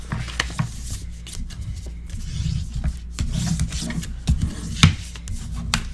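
A paper pocket for a Stamperia horses mini album is burnished flat with a tool, giving steady rubbing and scraping strokes with a few sharper taps, close and moderately loud, no talking.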